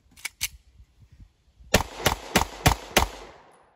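A Glock pistol fitted with a PSA Micro Dagger slide fires at a range: two sharp shots, a pause, then five evenly spaced loud reports.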